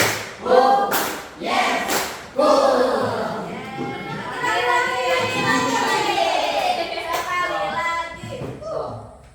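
Children clap in rhythm while chanting a counting clap game in a classroom, with sharp bursts of claps between loud, sung vocal phrases, close and energetic.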